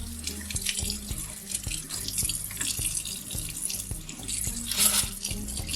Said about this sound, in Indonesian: Membilas saringan di bawah keran tidak mudah